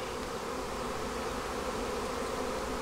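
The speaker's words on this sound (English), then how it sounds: "these hives are packed with bees" Bees buzz densely in packed hives, a close, steady, continuous hum that fills the air with no voices present.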